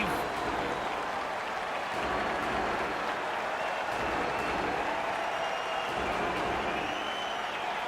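A packed arena crowd roars and cheers late in a tied ice hockey game between Tampereen Ilves and Red Bull Salzburg, a dense sustained wall of noise with a few sharper whistles and claps cutting through.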